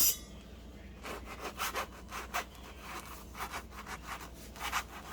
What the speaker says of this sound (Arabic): اقول لكم اقطع لكم واحد